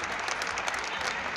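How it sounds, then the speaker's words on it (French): Brief burst of steady crowd applause at a prize-giving for a bull-herding manade competition in Vauvert, dense even clapping throughout. "On peut les applaudir très fort"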